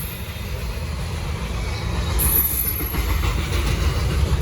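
Freight train hauled by a KCS AC4400 locomotive rolling past, a steady heavy rumble of wheels and cars with a faint high squeal, continuous and fairly close.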